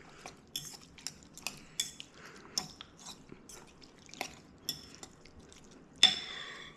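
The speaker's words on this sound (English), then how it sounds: "Mix that up." Seasoning is mixed into fish in a bowl, giving soft, irregular wet squelches and light clinks of utensil against the bowl, fairly quiet and close, ending with one sharper scrape.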